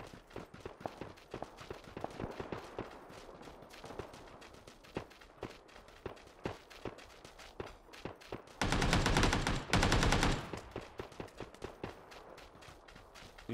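Gunfire in the video game PUBG, a steady series of sharp shots with a dense, louder burst of sustained fire near the end, heard alone without talk.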